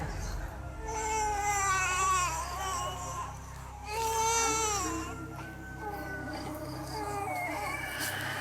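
An infant cries in drawn-out, wavering wails, loud and near, with a couple of louder swelling bursts across the stretch and a faint steady hum underneath; no one speaks.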